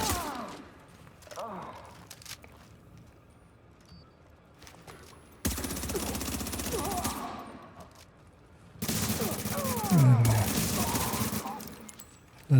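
Teammates' automatic gunfire in an online shooter game, coming as two loud dense bursts of rapid shots against quieter background battle noise, with a few scattered shots in between.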